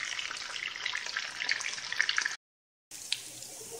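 Pollock fillets frying in hot oil in a pan, a dense steady sizzle and crackle with small pops, briefly cut to silence before the sizzling resumes.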